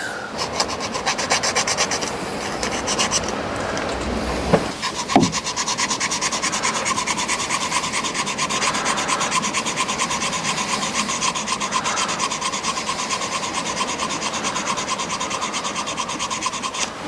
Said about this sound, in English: now I've cleaned the points off with some sandpaper